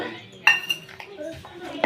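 A steel ladle clinks and scrapes against a pot as kappa (tapioca) biryani is mixed, with several close metallic taps at an uneven pace and quiet voices in the background.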